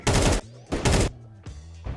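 Burst gunfire from Counter-Strike 2, heard as three loud, sharp bursts in quick succession, each a dense crackle of shots separated by short gaps, with no talk.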